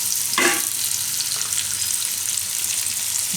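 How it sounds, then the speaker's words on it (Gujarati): Taro (arbi) pieces fry in hot oil with a steady close sizzle and a short stirring scrape near the start. "એને તેલમાં થોડીક વાર આ રીતે બનાવી લેવાની, શેકી લેવાની"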